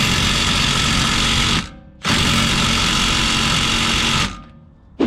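A power tool, likely an impact gun, undoing a 21mm steel bolt on a BMW F15 X5 rear shock, two long loud continuous buzzing bursts with a brief pause between, close up and without talk.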